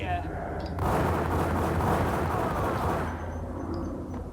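Two pistols fired at once in the Max Payne video game, a dense roaring burst of rapid gunfire that swells up abruptly, holds loud for a couple of seconds, then cuts off into quieter background noise.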